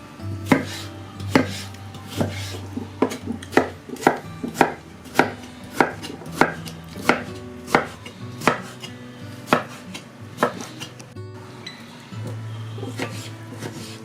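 Fresh cucumber being chopped on a board for okroshka cold soup, a brisk run of crisp, evenly spaced knife strikes close up, with a few clinks of utensils and no voices.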